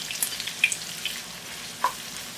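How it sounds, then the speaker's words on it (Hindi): Onions fry in about half a cup of hot oil for a potato curry, a soft continuous sizzle with a few faint spatters and clinks, close and quiet. "हाफ कप ऑयल डाल दें, तेल गरम हो जाए, फिर इसके अंदर प्याज डाल दें"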